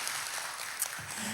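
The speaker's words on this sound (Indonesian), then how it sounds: "beri tepuk tangan yang meriah" Church congregation clapping in response to a pastor's call, dense and steady across the whole moment, a broad crowd wash without distinct individual claps.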